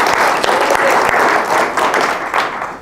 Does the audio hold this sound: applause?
yes